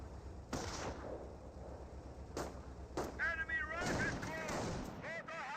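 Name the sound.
gunfire in the video game Company of Heroes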